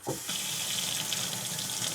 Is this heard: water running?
yes